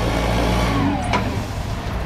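A Toyota 5FGCU25 propane-powered forklift with cushion tires idles nearby, a loud steady engine rumble throughout with a brief faint squeak partway through.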